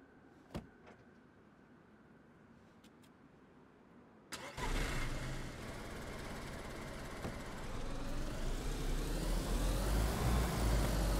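A car engine in the video game DayZ starts with a sharp burst after a quiet stretch, then runs and rises steadily in pitch and loudness as if pulling away.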